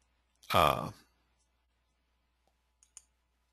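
After a short vocal sound, two small, sharp computer mouse clicks come close together near the end against near silence.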